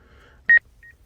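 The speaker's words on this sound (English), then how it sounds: "you can hear the beeping in the video" A truck's drone footage carries one short, clear electronic beep, followed a moment later by a fainter, briefer tone, against near silence.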